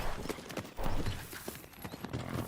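A horse trotting through a grid of ground poles in a riding exercise, with steady rhythmic hoof clip-clops up close and a brief whinny-like sound partway through.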